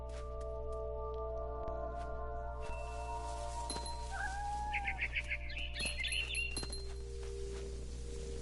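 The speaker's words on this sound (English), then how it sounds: "Then I heard chirping outside my window. It was a barn swallow going back to her nest." Barn swallow chirping near its nest in the video game What Remains of Edith Finch, a rising chirp and then a quick run of bright tweets over a steady low game hum with soft background tones.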